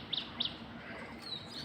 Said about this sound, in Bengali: ওই যে পাখিরা ডাকছে